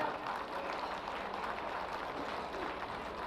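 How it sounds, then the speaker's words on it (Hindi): An audience at a Maharaja birth-anniversary ceremony in 2023 applauds, a fairly faint, steady patter of many hands clapping from a distance, lasting a few seconds. "एक बार जोरदार तालियां।"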